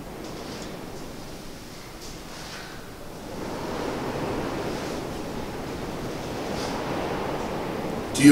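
Wind gusts steadily through an old prison women's cell block, a soft broadband rush that swells slightly midway and stays alone without voices.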